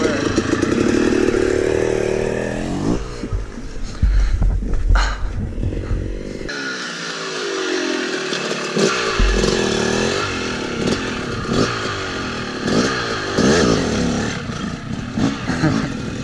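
A Yamaha YZ 250 two-stroke dirt bike engine revs loudly and continuously up close, with blipping throttle rises and falls and a short drop out midway during freestyle 180 attempts.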